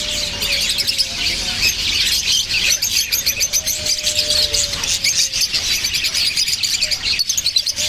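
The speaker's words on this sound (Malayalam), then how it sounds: "പല ടൈപ്പുള്ള കിളികളുണ്ട്." Assorted caged birds at Souq Waqif market in Qatar chirp and tweet in rapid, overlapping bursts, close and lively, with a thin whistled call running through the busy chatter.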